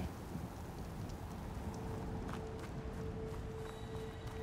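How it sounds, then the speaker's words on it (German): Approaching storm in the video game Horizon Forbidden West: quiet, steady rain hiss with low rumbling thunder underneath and faint clopping hoofbeats, no talking. "Sturm nähert sich schnell."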